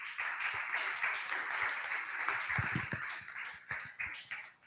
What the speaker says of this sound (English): Welcome, please welcome Team FAG with a warm applause.